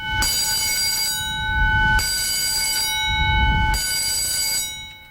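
Warning signal of the Dominion Boulevard Steel Bridge drawbridge opening, a loud steady electronic tone with harmonics sounding in repeated long blasts of about two seconds, with low rumbling traffic underneath.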